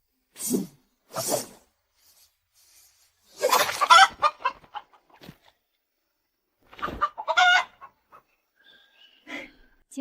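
A chicken clucks in several short bursts separated by silences, close and clear, with one longer squawking run of clucks partway through.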